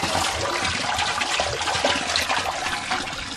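Water rushes loudly down a sump pit pipe once the sump pump's check valve is lifted, a steady broadband gush with trickling splashes that holds for the whole stretch.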